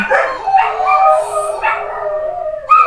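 A dog gives a series of wavering, drawn-out howls, rising and falling in several close, loud bursts with brief pauses between them.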